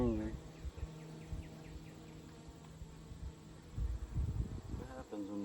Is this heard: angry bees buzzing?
yes